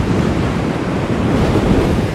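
Strong wind of about 30 miles per hour buffeting the microphone over the constant roar of incoming high-tide surf on a beach before a tropical storm, loud and unbroken throughout.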